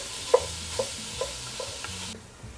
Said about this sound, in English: So I'm ready to brown my ground beef.